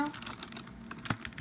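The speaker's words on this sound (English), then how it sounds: "Typing in my password now." Quick, light keystrokes on a computer keyboard as a password is entered, a short irregular run of close taps with a couple of sharper key presses.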